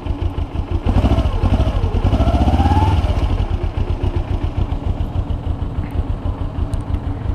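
A 2009 Kawasaki Ninja 250R Limited Edition with a carbureted engine runs close by, its rhythmic, slightly uneven pulsing loud and steady throughout, with a brief throttle rise in the first seconds.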